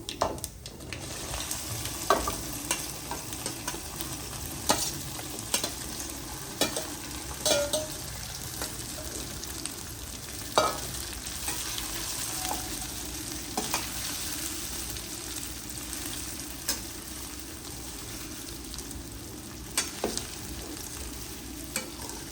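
Steady sizzling of hing tempering over methi muthiya dhokla in a hot pan, with occasional stirring clinks and scrapes, continuous and fairly close.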